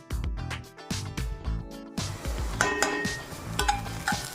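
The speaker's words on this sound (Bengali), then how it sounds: "চালটা ভাজা ভাজা হচ্ছে" Rice frying in a pan with ginger and ground spices, heard as close scraping stirs and crackling sizzle, with irregular clatter of the spoon against the pan.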